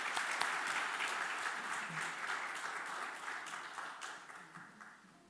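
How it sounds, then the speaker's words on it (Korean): A church congregation at a Sunday morning service in Ulsan applauds together, a steady, moderately quiet wash of clapping that gradually fades out. "우리 박수 한번 부탁드리겠습니다"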